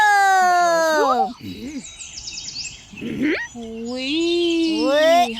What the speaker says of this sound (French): Ces oiseaux font une mélodie magnifique.